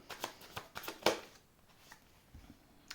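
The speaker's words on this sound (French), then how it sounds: "je vais poser une deuxième carte." Tarot cards being handled and set down on a table during a reading, a quick run of crisp papery flicks and taps up close followed by quieter shuffling, with no talk.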